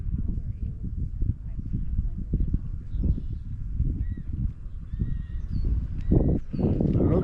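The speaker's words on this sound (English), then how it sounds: "Those are wild horses over there." Wild horses near Lake Pontchartrain, Louisiana, at the end of a road just outside the levees, give faint, high neighs and whinnies over a heavy, low, gusty rumble outdoors.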